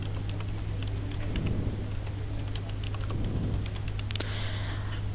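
Someone types a password on a computer keyboard, with a few soft, scattered key clicks in short bursts over a steady background hum, close but quiet and with no speech.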